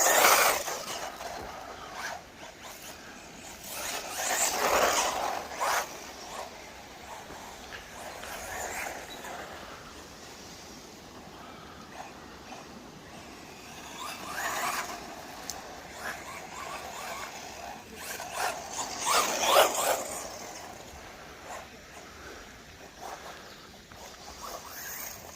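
A Wltoys 144010 RC car with an upgraded 5,000 kV motor drives hard, its gravelly whir rising in several loud surges over a steady rolling rasp, with no talking.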